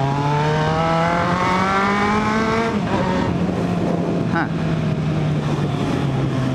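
A motorcycle engine in a video game set in a favela hums steadily at a loud, close level, its pitch rising and then dropping as it shifts, with a voice talking briefly over it.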